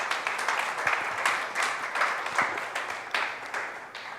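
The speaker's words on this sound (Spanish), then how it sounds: "Dale un aplauso al Señor" A church congregation at a Spanish-language service claps together in a steady ripple of applause, moderately loud and unbroken for several seconds, with no talking over it.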